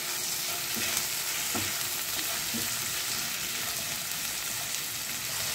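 Onion, tomato and split green chillies with a little salt fry in a pan on a medium gas flame, giving off a steady, close sizzle with faint stirring scrapes and no voices.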